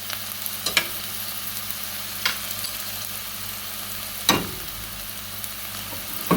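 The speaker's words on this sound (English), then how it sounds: "so we added our onion, chopped onion" Chopped onion sizzling in a pan for Jamaican-style Trini curry mangoes, a steady hiss broken by a few sharp stirring scrapes and clatters, close and moderately loud with no talking.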